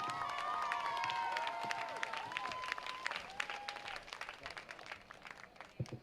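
Crowd applause for a senior at a high school football game, a steady wash of clapping and cheering with whoops and whistles from the stands, tapering into scattered claps near the end.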